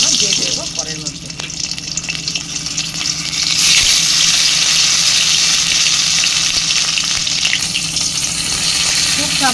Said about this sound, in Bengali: তো এখন আমি একে একে পেঁয়াজগুলো ভেজে নেব, দিয়ে দেবো কড়াইয়ের মধ্যে।